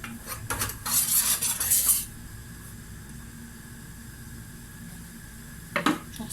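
A wooden spoon scraping and stirring cauliflower inside a pot in short bursts, with a quiet hiss of cooking between strokes.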